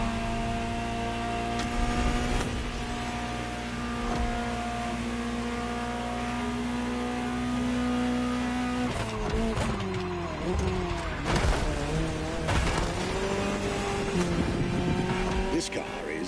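Ferrari GTO on the move, with a steady engine drone and shifting harmonic tones as revs change midway, under continuous loud background music.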